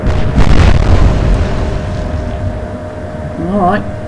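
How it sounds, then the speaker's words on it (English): A deep booming explosion from the Atlantic Fleet naval game, Royal Navy against Kriegsmarine, rumbles loudly and fades over a few seconds, with a voice briefly speaking near the end. "We've caused an explosion."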